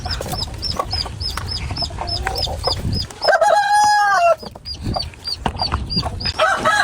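Rhode Island hens cluck in steady repeated bursts close by on a farm where eggs are being laid, with a rooster crowing loudly partway through and the clucking resuming after it.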